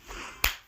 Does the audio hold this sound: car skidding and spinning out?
no